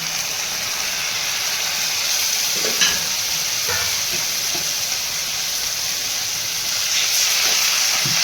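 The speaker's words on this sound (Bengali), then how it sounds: "এবার আমি আদা বাটা আর জিরে আর যে ধনেটাকে গুঁড়োটা ভিজিয়ে রেখেছিলাম ওইটাকে দিয়ে দেবো" Ginger paste, cumin and coriander paste frying in a pan of oil while cooking a magur fish cumin curry, a steady close sizzle and hiss running throughout with occasional stirring scrapes, no talking.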